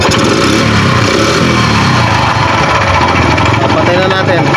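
A Kawasaki CT100 motorcycle engine runs steadily after troubleshooting of a no-start fault, holding an even, loud idle with a dense, continuous mechanical drone throughout.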